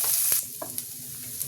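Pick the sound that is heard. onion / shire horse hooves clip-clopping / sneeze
onion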